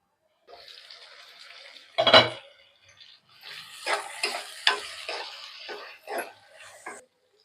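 Tomatoes simmering with golden-fried onions in a covered pot for an Andhra gongura chicken, giving a low steady sizzle with soft stirring and a sharp clank of pot or lid, then intermittent scraping and bubbling.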